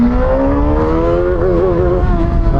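A 450–500 cc sport motorcycle under gentle throttle, its engine note rising smoothly as revs climb, loud and close, with a slight wobble midway and no voices.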